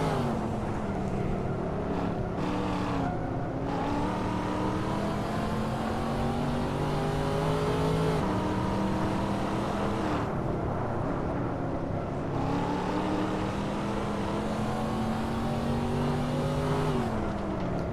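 Race cars in a Hot Wheels video game roar continuously at high revs. The engine pitch rises and falls through gear changes, with brief tire squeals, and stays loud and close throughout.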